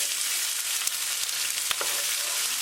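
Sweet peas and cumin seeds frying in hot vegetable oil give a steady, bright sizzle with a few soft stirring clicks, close and continuous without any talk.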